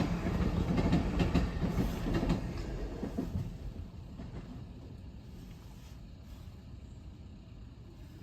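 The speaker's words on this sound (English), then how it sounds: "Oh, here comes the train." A train rolls through the Merllyn level crossing in Gwynedd, loud and close at first with a dense rumble and clatter of wagons, then fading steadily as it moves away over the following seconds.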